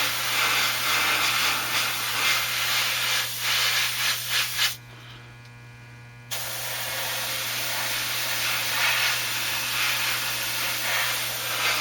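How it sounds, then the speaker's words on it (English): An airbrush sprays Alclad steel metallic lacquer in a steady, close, broadband hiss that cuts out for about a second and a half, then resumes and runs on evenly. "This is exactly the same spraying technique that I would use when I'm doing the Alclad chrome"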